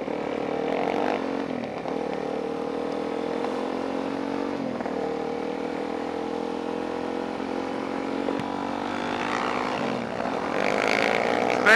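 A motorcycle, freshly patched with JB Weld and safety wire, rides steadily along with a loud continuous engine drone and wind rush, its pitch dipping briefly at gear changes and rising near the end.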